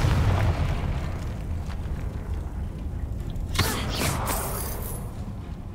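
Confringo fire spell blasting in Hogwarts Legacy: a sudden loud burst erupts about midway, followed by a few crackling, rumbling aftershocks over a steady game ambience.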